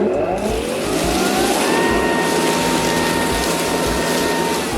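A Ryobi 40V electric leaf blower runs steadily and loudly close by, a continuous rushing whine of air blowing leaves outdoors with no letup.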